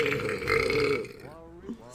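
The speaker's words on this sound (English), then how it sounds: "did you guys, that burp" A streamer lets out a loud, drawn-out burp lasting about a second, close to the mic, followed by a quieter voice afterward.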